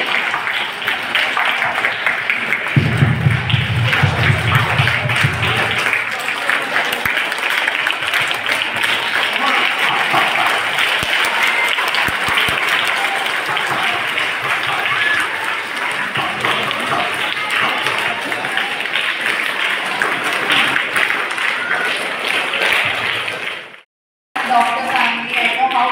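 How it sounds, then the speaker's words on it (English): Sustained applause from a large audience at a Gratitude Day 2024 gathering, dense and steady for about twenty-four seconds before a brief cut, then resuming. "Come on everybody, let's give a big round of applause."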